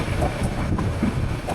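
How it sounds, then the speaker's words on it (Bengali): Mahanagar Provati, train no. 704, rumbles at the station on the Dhaka–Agartala route, a steady loud low rolling drone with faint rattling over the short span. "দেখতে পাচ্ছেন আমাদের এই ট্রেনটি হচ্ছে 704 নম্বর ট্রেন"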